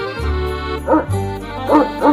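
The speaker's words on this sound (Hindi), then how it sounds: "टॉमी खुशी से भौंकते हुए" A cartoon dog barks happily in short, bright yips that come in quick clusters. Animated music plays underneath.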